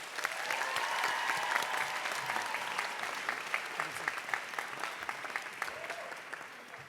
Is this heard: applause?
yes